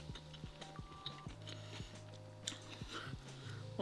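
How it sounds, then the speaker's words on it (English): Close, quiet chewing and biting sounds while eating pho with side vegetables, a steady series of small mouth clicks and soft crunches with a low background hum. "One more bite chewing."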